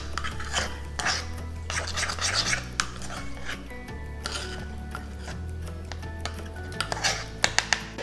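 Sugar and white wine vinegar stirred in a bowl with a utensil, producing repeated scraping and clinking strokes against the bowl in an irregular rhythm, close and clear with no speech.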